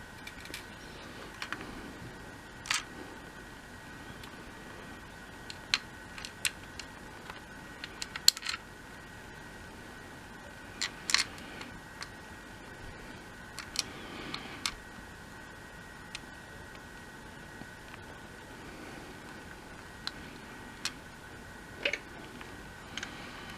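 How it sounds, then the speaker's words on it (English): Small screws being driven into a custom game controller case, heard as quiet, sparse clicks and ticks scattered over a soft, steady background. "And then just to put the rest of the screws in."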